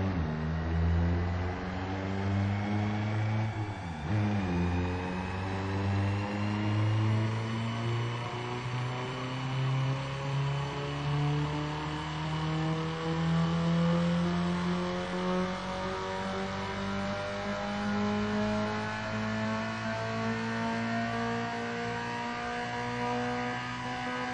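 Engine in Need for Speed Underground 2 revving steadily on a dyno, its pitch climbing gradually across a long pull after a brief dip near the start, loud and close with no talking.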